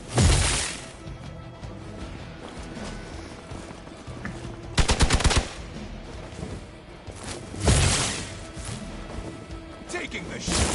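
Gunfire from Marvel's Midnight Suns, a few sharp shots and short bursts standing out over a steady game soundtrack, with loud impacts near the start, middle and end.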